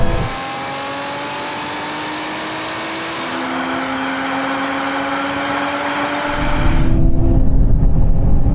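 A Lotus Emira and a Toyota GR Supra drag race with a loud, sustained engine drone and whine that climbs steadily in pitch. A deeper, rougher roar swells near the end, with no voices.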